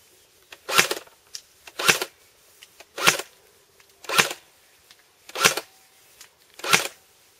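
The wheel of an airsoft magazine is wound by hand, giving six evenly spaced bursts of ratcheting clicks about a second apart, close and distinct, with small ticks between them.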